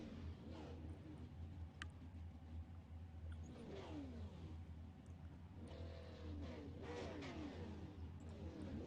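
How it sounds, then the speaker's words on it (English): Several super late model race cars idle and roll slowly behind a pace car at a season finale, a steady low engine rumble with faint revving swells, distant and continuous throughout. "Pace car will be rolling off here very shortly."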